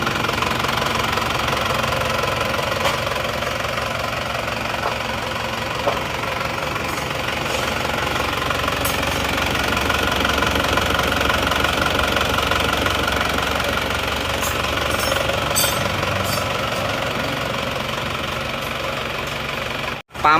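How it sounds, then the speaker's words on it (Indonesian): A freshly rebuilt Isuzu Panther engine runs on its first start, a steady close-up idle with a busy mechanical clatter and knock throughout, unbroken for about twenty seconds with no talk. "Pamer lagi mesin yang baru hidup hari ini, plat AB dari Klaten."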